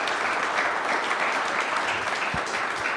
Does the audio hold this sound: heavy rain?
no